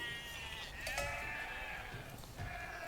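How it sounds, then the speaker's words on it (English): Sheep bleat in an Age of Empires match, several wavering calls overlapping at moderate volume over a steady low game hum, with a brief lull before another bleat near the end. "Got more sheep, so all the sheep are on the TC."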